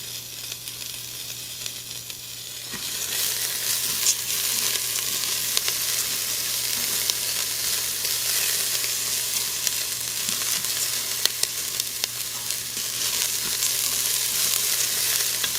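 Onions and garlic fry in a pan, a loud continuous sizzle close by that swells when the onions go in and keeps crackling as they are stirred, with no talk.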